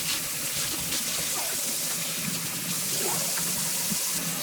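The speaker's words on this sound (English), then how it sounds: "I'll probably wash out my sink with just straight vinegar just to make sure everything is" Water runs steadily from a tap into a kitchen sink being washed out with vinegar, a continuous close splashing rush with no pauses.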